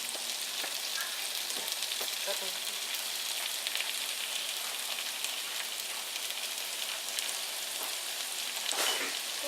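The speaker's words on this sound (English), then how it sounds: "With the onion. We're gonna brown that a little bit more." Onion sizzling and browning in a hot pan alongside pork chops, a steady dense crackle of frying with light stirring scrapes throughout, close and continuous, with brief talk in the background.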